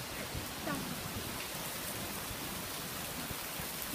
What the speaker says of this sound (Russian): И снова дождик поливает в моей огороде.